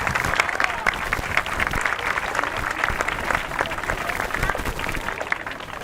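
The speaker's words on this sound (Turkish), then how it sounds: "Alkışlıyoruz kendisini." Applause from an audience of parents and chess players greeting a young champion at a simultaneous exhibition during the Çeşme International Open Chess Tournament, steady and dense clapping throughout, moderately close.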